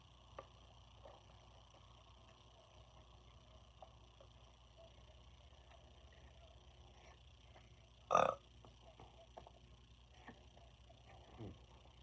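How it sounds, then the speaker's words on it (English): A single short burp stands out sharply around two-thirds of the way through an otherwise quiet, hushed room, with a faint smaller sound shortly after. "Burp."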